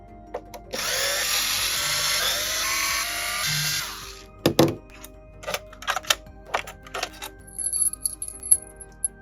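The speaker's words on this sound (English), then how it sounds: "Switching now to a T10, we can remove all of the green screws." Green screws being removed with a T10 screwdriver from an Xbox Series S. A few seconds of whirring from an electric screwdriver come first, then a run of sharp clicks and small metallic clatters as the screws are set down, close and with no talking.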